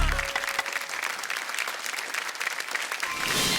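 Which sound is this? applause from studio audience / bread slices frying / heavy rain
applause from studio audience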